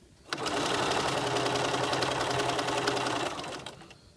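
A sewing machine stitches a French seam sample in one steady, fast run of about three seconds, close and alone, starting and stopping abruptly.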